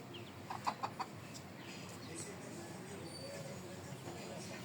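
Chickens cluck in a few short bursts early on, then a steady outdoor background hum continues without clear calls.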